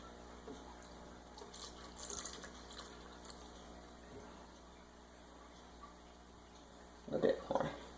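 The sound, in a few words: pouring lemon juice into mixing bowl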